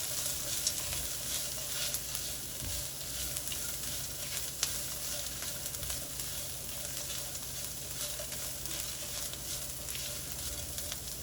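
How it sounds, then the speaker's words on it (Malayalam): Chilli powder and turmeric sizzle as they are stirred in a hot pan, a steady close crackle of frying that runs continuously, with no talking. "ഇതിൻ്റെ പച്ചമണം മാറുന്നത് വരെ മിക്സ് ചെയ്യണം."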